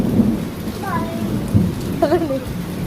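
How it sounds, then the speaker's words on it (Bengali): Rolling thunder rumbles over steady rain falling on surfaces, with a few faint voices or tones rising briefly above the downpour. "কেমন মেঘটা ডাকছে কেমন?"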